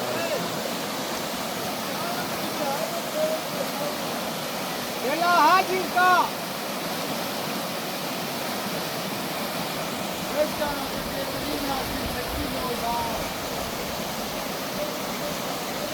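The Pambak river rushes in a broad, steady roar of water. A few short spoken words come in partway through.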